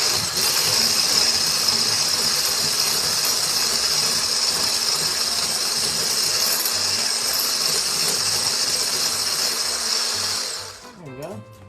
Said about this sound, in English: I got my little electric whisk